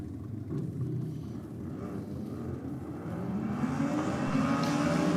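Drag racing motorcycles run side by side down the track, with a steady engine roar that swells and rises in pitch as they accelerate away, somewhat distant and with no voices.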